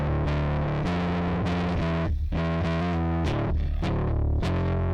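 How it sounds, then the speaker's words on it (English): Heavily distorted audio driven through a PSP InfiniStrip preamp module plugin, a dense, saturated, continuous sound with thick harmonics and brief dropouts, loud and alone without talk. "you can hear the difference in the distortion quality that's providing"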